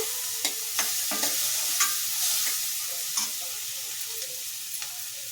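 Onion and tomato fry in hot tempering oil for Bombay aloo masala, a steady close sizzle broken by repeated scrapes and clinks of a spoon stirring the pan, with no talking.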